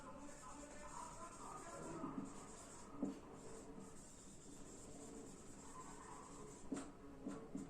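A pen writes out an accounting comparative-statement format, giving soft, faint scratching strokes over a low steady hiss, with a few slightly louder marks near the start, middle and end.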